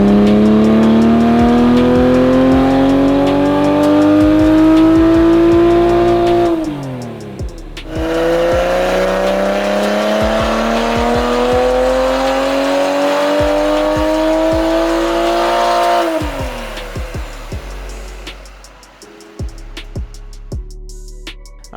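Toyota Supra MK5 with a high-flow catted downpipe and custom tune on a dyno, two long loud pulls with the engine note climbing steadily in pitch before dropping off, then idling and quieter noises afterward.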